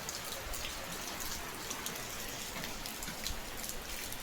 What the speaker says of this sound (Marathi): शांतपणे आमच्या इथे पाऊस पडत आहे.